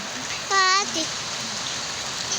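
Steady rain falling, a soft continuous hiss of drops throughout, with a brief voice-like tone rising over it midway.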